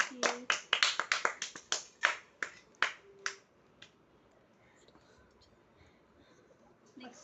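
Quick run of sharp hand claps for a small child, about a dozen crisp strikes in the first three seconds that thin out and stop, followed by quiet room tone with faint talk.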